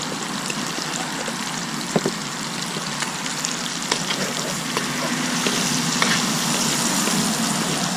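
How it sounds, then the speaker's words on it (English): Onions sautéing in a Dutch oven with bacon and barbecue seasoning, a loud continuous sizzle with scattered small pops and crackles, no talking. "we're going to let these onions saute down just a little bit"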